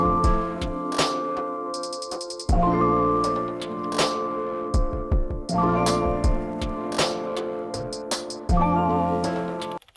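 An Elektron Digitakt plays a multitrack loop across three tracks: punchy drum hits, ticking percussion and a tonal melodic line, repeating in a steady groove, loud and close with no talk.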